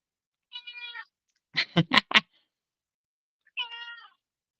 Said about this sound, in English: Cat is so meowy.